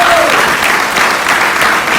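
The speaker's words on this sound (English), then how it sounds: "let's give them all around the applause in the mighty Mosque number 97 under Brother Student Minister Kareem." Applause fills a mosque hall after a speaker's call, a dense, steady wash of clapping from a large crowd that holds for the full two seconds with no talk over it.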